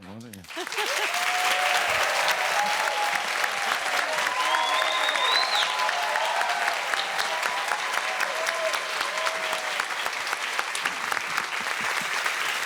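A seated audience at a Christmas special event applauds athletes standing to be recognised, a dense, sustained round of clapping from a crowd, steady and fairly loud, with faint cheering mixed in.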